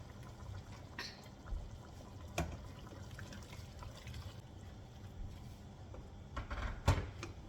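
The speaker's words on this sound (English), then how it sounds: "So now I will add more water depending on the quantity of water I want." Water is poured into a pot of simmering chicken pepper soup, a soft, faint trickle and splash with a few louder sloshes near the end.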